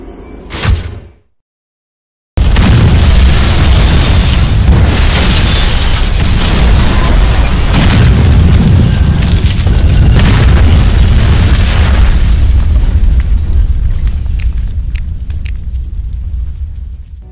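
A bomb explodes in the video game Resident Evil Outbreak: a brief noise, then two seconds of silence, then a sudden massive boom that swells into a long, loud rumbling roar and slowly fades.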